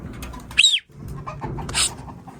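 Pigeons inside a pigeon tower, with a couple of short bright calls and wing flutters close by over a quiet background, no talking.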